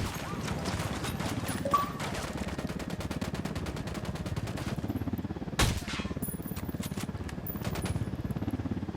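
Rapid bursts of gunfire from Ghost Recon Wildlands rattle on in a fast repeating rhythm, broken by a couple of louder single shots and a sharp crack near the middle, with a voice briefly audible underneath.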